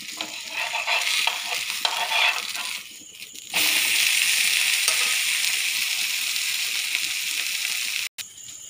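Parotta reheated on a hot pan gives a steady close sizzle. Stirring and scraping noises sound over it for the first few seconds, then a louder, even frying hiss continues.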